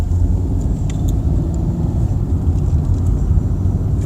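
A car drives along at steady speed, a loud continuous low engine and road rumble with faint jingling rattles from inside the cabin, no talking.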